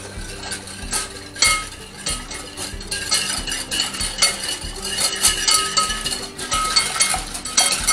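A tablespoon of sugar and a teaspoon of salt are stirred into a soft pretzel dough mixture, with a spoon clinking and scraping against the bowl in quick, uneven strokes, close and loud.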